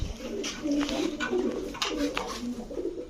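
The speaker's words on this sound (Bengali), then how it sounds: "খুবই সুন্দর একটা কবুতর" Several pigeons at a pigeon dealer's shop coo repeatedly, close by, in soft, rolling low calls that overlap one another, with light background noise.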